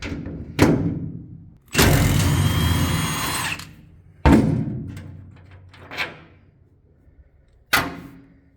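A power tool zips bolts out of the rear bed of a Ford F100 truck in a garage: one sustained whirring run of a couple of seconds, set between sharp metallic clunks and thuds.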